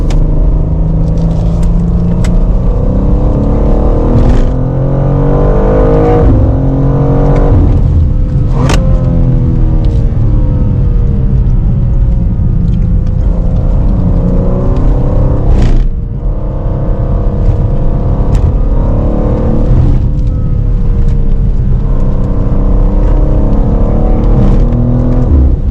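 A BMW sports car with its gearbox in the most aggressive sport setting accelerates hard. The engine roar is loud and close, with rising pitch sweeps broken by gear changes, and there is no talk.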